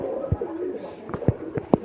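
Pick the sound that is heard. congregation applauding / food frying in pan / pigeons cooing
pigeons cooing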